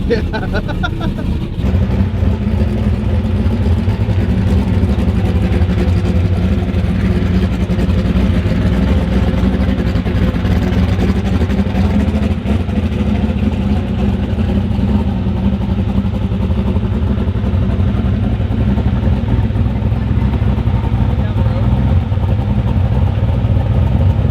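An LS V8 car engine fitted with a race cam runs steadily, a loud continuous rumble that stays up close for the whole stretch, with voices faintly talking over it.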